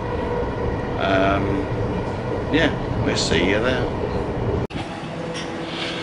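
A ride on a London Elizabeth Line train, heard as a steady loud rumble and hum of the carriage with a brief clunk near the end, while people talk over it.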